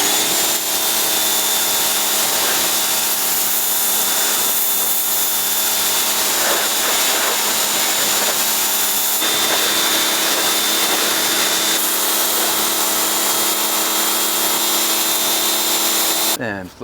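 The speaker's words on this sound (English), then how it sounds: "I'm going to use an electric pressure washer to quickly get the moss and gunk out of these cracks and crevices." An electric pressure washer blasts moss and gunk from the roof rail moulding of a BMW E46 M3 with a constant loud hissing spray and motor whine throughout, close and unbroken.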